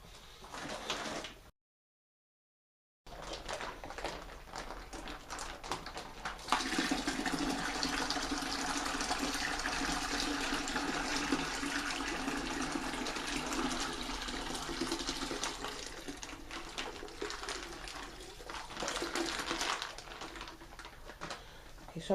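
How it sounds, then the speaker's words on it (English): Water gushes into a plastic wine fermenting pail during primary fermentation of a Vinoit Mount wine kit, rinsing out the concentrate bag. A steady rushing pour runs close and loud after a brief quieter start. "So I'm going to fill this up with water,"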